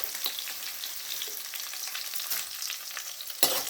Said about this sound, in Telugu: ముందుగా ఇవి వేగాలండి ఆయిల్లో.